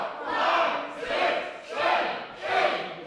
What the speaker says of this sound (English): Crowd counting along.